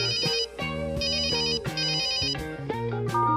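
A telephone rings in the comedy adventure game Supreme League of Patriots, a bright electronic ringtone repeating in short bursts over layered background game music.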